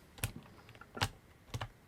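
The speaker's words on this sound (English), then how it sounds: "That's the keyboard." Three sharp, separated keyboard clicks, each a crisp tap against a quiet background, spaced about half a second to a second apart.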